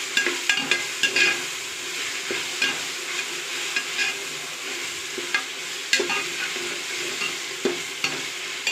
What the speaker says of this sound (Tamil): இஞ்சி பூண்டு பேஸ்ட் போட்டாச்சு. நல்லா வதக்கி விடலாம், அந்த பச்சை வாசம் போகிற வரைக்கும்.